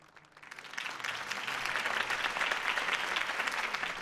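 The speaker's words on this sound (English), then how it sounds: "could have heard that applause" Crowd applause follows a campaign speech in the video game Batman: The Telltale Series, swelling quickly from quiet into sustained, dense clapping that stays steady and fairly distant.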